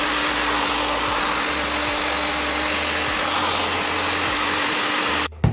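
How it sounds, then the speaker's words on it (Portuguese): A hair dryer fitted with a diffuser drying curly hair gives a steady, loud whooshing blow with a low hum for about five seconds, then cuts off abruptly. "Então eu uso um difusor, o meu não é o certo pro meu secador, mas eu dou um jeitinho."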